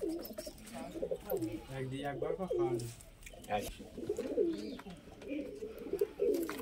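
Soft, low pigeon coos come repeatedly at close range, mixed with chirpy bird sounds and some nearby human voices.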